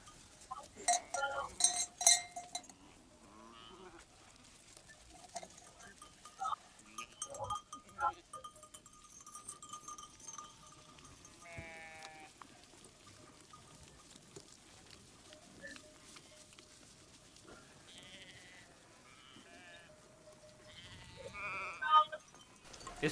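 Scattered bleats from sheep or goats in a quiet outdoor scene, with faint clinking like animal bells, the calls intermittent and fairly soft.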